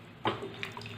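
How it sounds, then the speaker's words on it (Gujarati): Slightly warm water, about three cups, is poured into a cooking pot for a Kathiyawadi tomato dal, giving a short, soft splash and trickle close by. "અને પછી તેની અંદર આપણે પાણી ઉમેરીશું"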